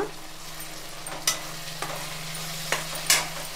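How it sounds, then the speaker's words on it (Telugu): Onions fry gently in a pan with a soft steady sizzle, broken by a few sharp scrapes of a stirring utensil, close and fairly quiet. "ఇప్పుడు ఇవన్నీ ఉల్లిపాయలు కొంచెం దోరగా వేగిన తర్వాత"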